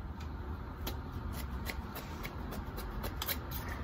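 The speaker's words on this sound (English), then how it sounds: "my scissors aren't working very well, and I'm going to show you. They get caught." Fabric scissors snip repeatedly through dress fabric in a quick, uneven rhythm of crisp cuts, close up against a steady background hiss, with the dull blades occasionally catching.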